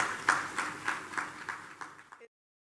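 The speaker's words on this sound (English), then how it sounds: "you can give a round of applause for that." A crowd claps for educators who prepared students for the PEP exam, a short burst of applause with distinct claps that fades out after about two seconds.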